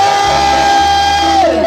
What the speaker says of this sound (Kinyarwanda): Muretse gatoya dukomere Yesu amashyi menshi.